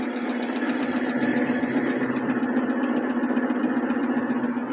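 A computer embroidery machine stitching work, a steady mechanical whirring hum with a constant buzzing drone, running continuously and loudly throughout with no speech.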